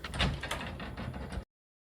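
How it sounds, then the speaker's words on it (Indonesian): A door being opened indoors gives a steady scraping, rolling slide lasting over a second, moderately loud and close, with a few rattling bumps before it stops abruptly into silence. "pintu ini harus dibuka untuk yang terakhir kali."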